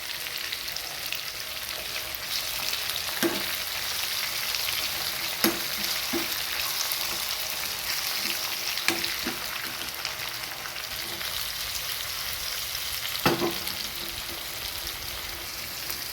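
Onion, tomato and green chili fry in a pan for masala dal khichdi, a steady, even sizzle throughout with a few faint clinks of a spoon stirring.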